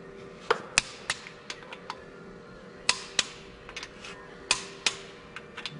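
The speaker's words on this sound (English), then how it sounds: "we're going to torque the manifold." Torque wrench tightening exhaust manifold bolts during a 60 Series exhaust manifold and turbo install: sharp, close metallic clicks arriving in irregular clusters over a low workshop hum.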